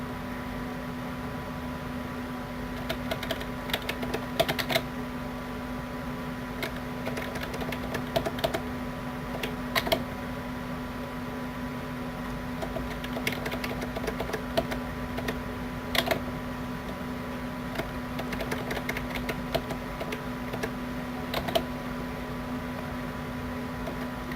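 Computer keyboard keys are pressed in scattered single taps and short bursts during video editing, faint clicks over a steady electrical hum and hiss with no talking.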